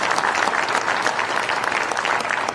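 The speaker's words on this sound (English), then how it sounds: "Let's give them another round of applause." Continuous, dense applause from an audience at the signing ceremony of the EU-Kenya trade deal, steady and loud for the whole stretch with no voices over it.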